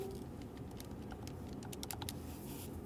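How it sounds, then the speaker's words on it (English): Numbers being tapped into a calculator by hand, a quick run of light, irregular key clicks close up against a quiet room, with no talk. "I'm just gonna type this into my calculator."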